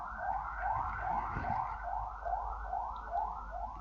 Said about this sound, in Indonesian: Maaf ada ambulan yang lewat.